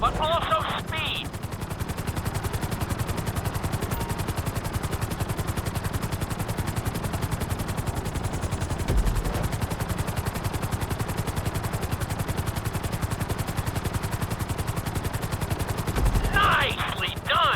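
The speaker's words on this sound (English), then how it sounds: "we'll see how well you handle the chopper" Helicopter flying in Grand Theft Auto V on a flight school course, a steady loud rotor chop pulsing rapidly throughout, with brief speech at the start and end.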